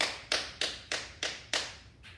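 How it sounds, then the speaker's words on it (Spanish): Rhythmic clapping during a church service in praise of the Lord, about seven evenly spaced, crisp claps close by, each fading quickly. "Denle un aplauso en esta noche al Señor ahí en sus hogares."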